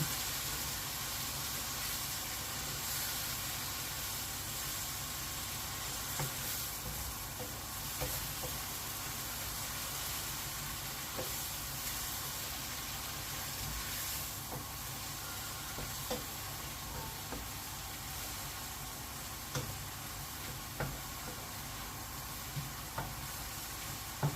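Beef steak and mushroom pie filling with about 40 grams of butter bubbles and sizzles in a pan as it reduces. A long, even hiss continues with faint occasional pops.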